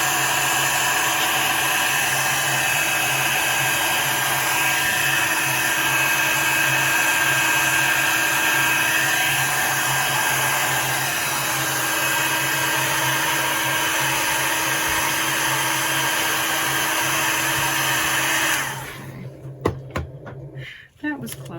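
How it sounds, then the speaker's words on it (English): A heat gun blows hot air in a steady, loud broadband rush with a constant hum, running continuously while making herb wall decor, then cutting off near the end, leaving a few small clicks and handling knocks. "I didn't hit it with the heat gun"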